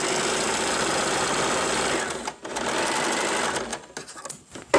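Electric sewing machine stitching straight seams under foot-pedal control, a loud, steady close-up mechanical whir that keeps running with brief dips where the pedal eases off, then picks back up.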